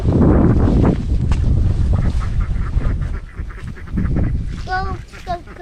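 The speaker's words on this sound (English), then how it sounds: "Ducks, ducks, ducks." Ducks and geese quack and honk near the water among scattered calls, with wind buffeting the microphone and people talking over them throughout.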